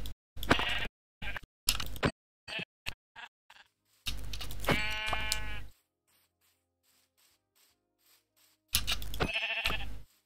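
Sheep in Minecraft let out several loud, close bleats in short bursts, with quick clicks and brief gaps of near silence between them.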